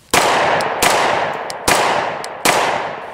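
A Glock 20 10mm pistol fires four loud, close shots at a steady pace, each with a sharp crack and a long ringing tail. No one speaks.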